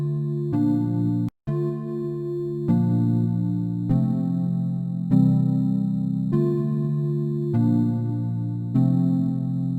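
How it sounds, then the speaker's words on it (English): A soft synth chord layer using the Faith keyboard preset from Analog Lab, playing sustained chords for an Afrobeat beat, changing roughly every second or so with one brief dropout early on, steady and close with no voices. "And right here we have a chord layer, which is a soft synth."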